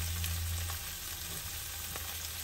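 Cooked beef tipped into a hot frying pan for ampalaya con carne sets off a steady, close sizzle that hisses on through the whole moment, with faint stirring underneath and no talking.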